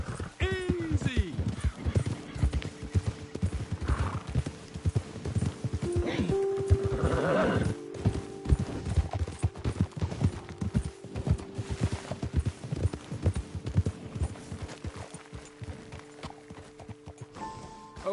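Horses trot with steady clip-clop hoofbeats and neigh in a Western open-world video game, the whinnies rising clearly over the rhythmic hooves while characters talk throughout.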